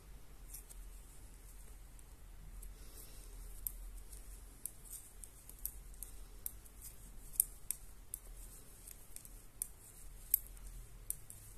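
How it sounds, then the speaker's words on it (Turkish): Scissors snip through knitted yarn loops on an openwork lace bolero, a string of faint, sharp clicks scattered across a quiet background. "Hemen arkadan her iki taraftan birer ilmeği kesiyorum"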